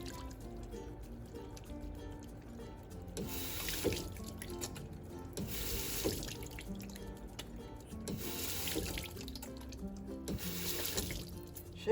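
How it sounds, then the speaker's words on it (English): Water from a tap runs steadily as hands are rinsed clean of soap during handwashing for infection control, with gushing bursts recurring over continuous music and no talking. "rinse our hands carefully under running water"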